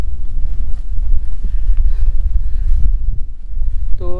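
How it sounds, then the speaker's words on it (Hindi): Strong wind blowing on a mountain trekking trail near Cherrapunji, a loud, continuous low roar buffeting the microphone throughout, with a brief voice-like tone near the end. "अभी हवा बहुत ज़ोर से हवा चल रहा है।"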